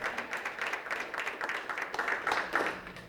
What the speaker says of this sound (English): So give you guys a round of applause.